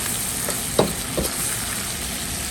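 Guizhou-style twice-cooked pork sizzles in oil with fermented black beans, chili bean paste and chili, a steady frying hiss broken by a few sharp stirring scrapes against the wok.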